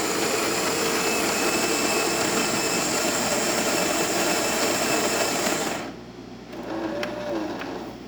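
Jura espresso machine brewing a single shot, a loud steady mechanical pump whir and buzz that runs for several seconds, then cuts to a quieter hiss and gentle dripping flow.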